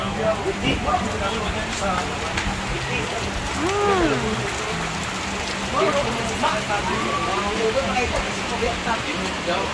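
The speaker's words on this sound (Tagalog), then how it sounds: "Umuulan. Ang lakas pa." Heavy rain pours down in a steady, dense hiss, with people talking underneath it.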